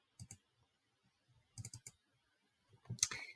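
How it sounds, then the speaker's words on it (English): A computer mouse clicks in quick pairs and single taps while lines and shapes are drawn on a digital map, crisp and close in an otherwise quiet room. "double clicking to finish the line"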